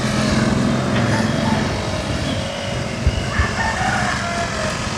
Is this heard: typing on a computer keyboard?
no